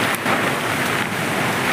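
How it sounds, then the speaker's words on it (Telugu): Steady rain pours down in a village as wind and dust blow in, a dense continuous hiss with no gaps, fairly loud and close throughout. "వర్షం ఒకేసారి స్టార్ట్ అయిందనమాట మా ఊర్లో"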